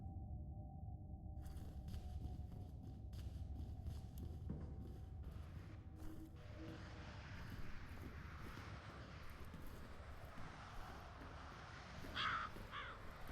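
A crow caws in the game F.E.A.R., two short harsh calls near the end, heard over a quiet, low ambient drone after a long stretch of faint background noise.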